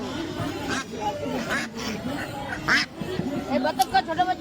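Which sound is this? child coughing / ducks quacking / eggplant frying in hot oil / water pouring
ducks quacking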